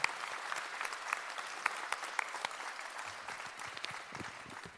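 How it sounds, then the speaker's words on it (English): Warm round of applause from an audience at a 2022 honors ceremony, many hands clapping briskly with sharp individual claps poking through, steady for nearly five seconds. "Let's give them another round of applause."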